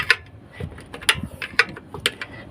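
Metallic ratcheting clicks and taps from a part being tightened on an 8M21 engine with an overheating fault, in a few sharp bursts spaced about half a second apart, close and moderately loud over low workshop rumble.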